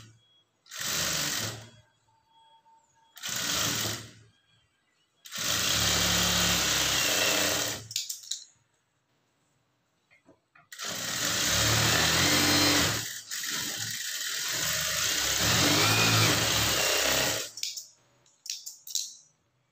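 A sewing machine stitches a blouse in bursts: two short runs, then longer stretches of fast, close, loud mechanical whirring, separated by silent gaps.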